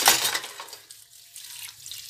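Hot water runs from a kitchen sink tap while dishes are washed, a steady rushing splash that is loudest at the start and then settles into a softer trickle. No one speaks.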